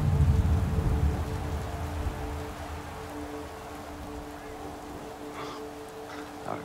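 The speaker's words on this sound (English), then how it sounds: "Oh, great, now it's raining." Steady rain patters throughout in the video game Madden 18 Longshot, with a low rumble at the start, and faint murmurs in the background later on.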